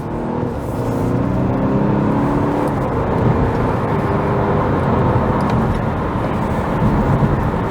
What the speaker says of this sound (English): You can definitely feel the power of acceleration in this vehicle.